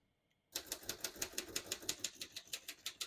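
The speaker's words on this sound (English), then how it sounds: "As you can see, all the keys type nice and none of them skip or stick." Rapid keystrokes on a 1929 Royal Companion portable typewriter, a steady run of about fifteen crisp, clacking strikes close up after a brief moment of silence, with no voice over them.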